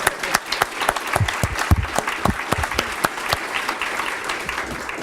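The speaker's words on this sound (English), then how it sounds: "Let's give her a round of applause." An audience applauds for a NICU nurse at a hospital anniversary celebration, with steady, dense clapping from a sizable crowd that holds throughout with scattered sharper claps.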